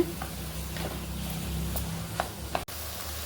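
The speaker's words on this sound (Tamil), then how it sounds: "இதை வந்து நல்லா இப்படி வறுக்கணும்" Sundakai sambar ingredients roast in a pan with a soft, steady sizzle, a few faint scrapes and ticks from stirring cutting through.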